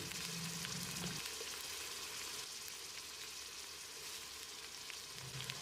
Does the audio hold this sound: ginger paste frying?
yes